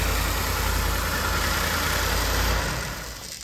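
Ford F-150 with a 5.0L V8 idling steadily after a new alternator belt is fitted, a constant close engine hum and belt whir that eases off slightly at the end, with no voices.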